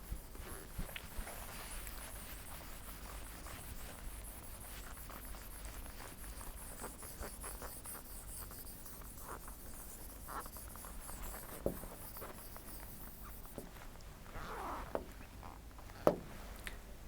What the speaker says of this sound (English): Let me erase them all.